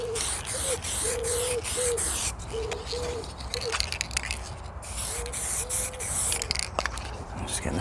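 An aerosol can sprays paint onto BMW MV2 alloy wheels in repeated close hissing bursts with short pauses between them, along with faint squeaky tones and light scraping.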